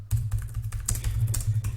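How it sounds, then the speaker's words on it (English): Touch typing on an Estonian computer keyboard: a quick, close run of crisp key taps in an uneven rhythm over a low steady hum, with no talking. "Touch typing is hard on Estonian keyboards."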